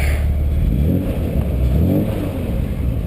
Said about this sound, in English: these Austin Healeys with the big 3-liter 6-cylinder overhead valve motor really has a nice burble to it